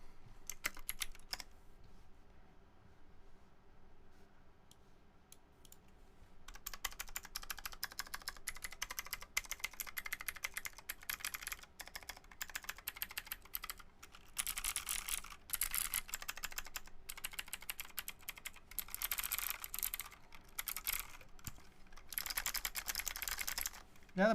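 Rapid clicky keystrokes on a modded mechanical keyboard, close and crisp, arriving in dense bursts with short pauses, including a near-silent stretch early before typing resumes steadily.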